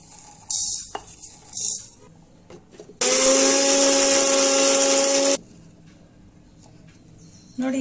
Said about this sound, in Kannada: ಸಾಸಿವೆ ಮೆಂತೆ ಈಗ ಮಿಕ್ಸಿಗೆ ಹಾಕ್ತಾ ಇದ್ದೀನಿ